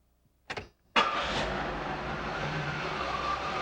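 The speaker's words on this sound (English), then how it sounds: "I'll start the engine." A car engine during a tune-up: a brief crank, a short pause, then the engine catches and settles into a steady, close running idle.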